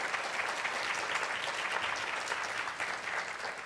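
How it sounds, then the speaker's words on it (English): A university audience at Rice University's Screech 2016 event applauds presenters with dense, continuous clapping that stays steady and fairly loud throughout, with no voices on top. "Let's give them another round of applause."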